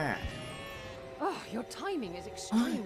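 Sheep in the video game Trine 3 bleat several times in short, wavering cries, one after another over a steady musical game background. A voice talks at times.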